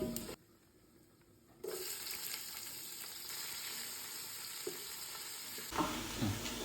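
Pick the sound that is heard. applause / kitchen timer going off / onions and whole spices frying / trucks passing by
onions and whole spices frying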